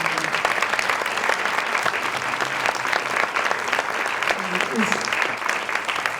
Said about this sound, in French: accueillir ce soir Arnaud Desplechin, que je vous demande d'applaudir